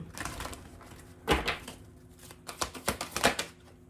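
Tarot cards are riffled and shuffled in quick, crisp bursts, one sharp ruffle followed by a rapid series of flicks, close and fairly quiet.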